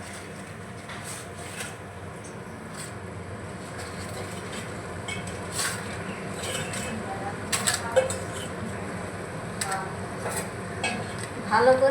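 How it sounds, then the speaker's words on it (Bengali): Fried papad pieces are stirred into bubbling gravy in a pan, giving soft scraping and clinking strokes over a steady background hiss, with a brief spoken remark. "আমি একটু নাড়িয়ে নেব এইভাবে আরও দু মিনিট মতো আমি দিয়ে ফুটিয়ে নেব"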